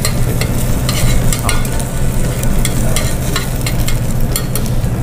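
Beaten egg sizzles steadily in hot oil in a pan while a second layer of Japanese rolled omelette is cooked, a close, continuous crackling hiss with no talk.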